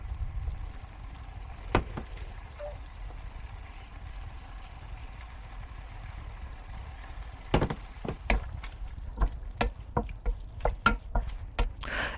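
Chicken stir-frying with Shaoxing rice wine and soy sauce, a soft low sizzle that turns into a run of sharp, rhythmic clacks of a spatula tossing against the wok toward the end.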